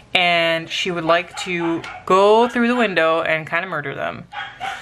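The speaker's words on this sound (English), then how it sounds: "Sorry about my dogs." Pet dogs bark and yip excitedly at squirrels on a rainy day, close by and persistent, mixed in with a person talking over them throughout.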